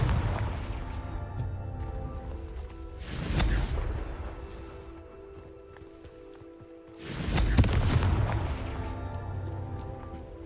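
Confringo spell fired in Hogwarts Legacy, two separate booming whooshes several seconds apart, each swelling into a broad hissing roar before fading back to a quiet hum.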